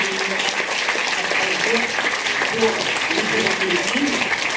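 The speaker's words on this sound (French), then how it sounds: "On peut applaudir toutes les équipes de courts-métrages" Festival audience at a film festival closing ceremony applauding the short film teams, steady dense clapping filling the hall with some voices murmuring underneath throughout.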